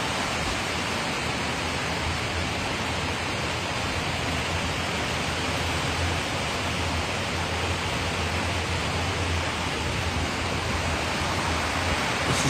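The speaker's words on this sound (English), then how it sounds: "Culvert is pretty full." Rainwater rushing through a full culvert during a heavy downpour, a steady, loud, dense wash of water noise that holds unbroken from start to end with no voices.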